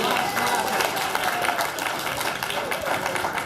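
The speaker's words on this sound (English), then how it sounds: "you're allowed to clap. So everybody clap." Dense, steady applause from a crowd in a city council chamber, many hands clapping at once without a break for several seconds.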